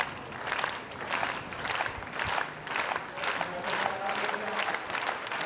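A stadium crowd at a school athletics championship claps in a steady rhythm to support a high jumper before his attempt. The claps are loud, evenly spaced and continuous.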